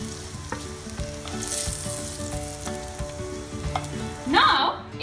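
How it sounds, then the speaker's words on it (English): Paneer cubes frying in hot oil give a steady close sizzle and crackle, with a brief louder burst of spattering near the end and no talking. "Fry them till they're golden brown."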